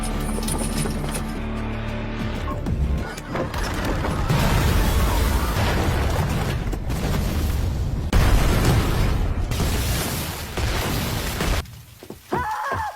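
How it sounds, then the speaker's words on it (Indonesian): Film explosion destroying a temple and an iron room, with sustained rumbling blasts, crashing debris and heavy booms, loud and continuous. "Ya, tidak hanya kuil saja yang meledak, tetapi juga ruangan besi yang tepat berada di belakang Andu dan Jilong."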